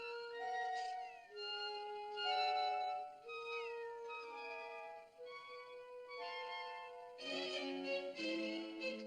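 Cat meowing, a run of high, drawn-out mews with bending pitch, close and clear, a few overlapping near the end.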